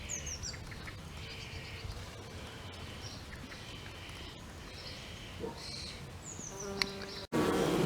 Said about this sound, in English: But the bee's getting right down inside, I noticed, of the flower head.